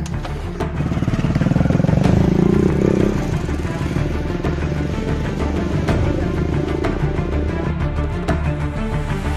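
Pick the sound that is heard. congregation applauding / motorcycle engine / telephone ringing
motorcycle engine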